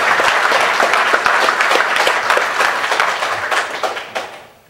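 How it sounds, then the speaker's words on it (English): Audience at a conference welcome session applauding the front desk staff, a dense, steady wash of many hands clapping that carries on at full strength before tapering off near the end. "So give them a round of applause."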